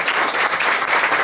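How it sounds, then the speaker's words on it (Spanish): An audience applauds at a magazine launch presentation, a dense, steady burst of many hands clapping together, loud and close, with no talking over it. "así que también un aplauso por el arte"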